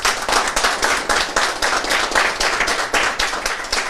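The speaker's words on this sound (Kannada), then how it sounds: "ಒಂದು ಜೋರ ಚಪ್ಪಾಳೆ ಅವ್ರಿಗೆ" Audience applause at a book release event for a legal guide for Ayush practitioners: steady, dense clapping from many hands, loud and continuous throughout with no talk over it.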